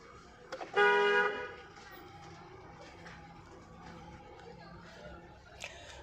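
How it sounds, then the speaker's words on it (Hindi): A long car horn blares for about half a second near the start, sounded before a blind turn in a narrow lane, loud and sustained over low road and street background noise. "लॉन्ग हॉर्न बजाओ, ताकि अगर लेफ्ट या राइट से कोई गाड़ी आ रही है तो वो अलर्ट हो जाए"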